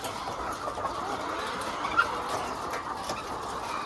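Chickens cluck and murmur steadily at a poultry farm in San Jose, Batangas, a dense, continuous flock chorus with no single bird standing out.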